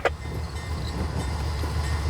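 Freight train pulling away after a crew change, a loud continuous low rumble and rolling roar with faint clanks, close and steady throughout.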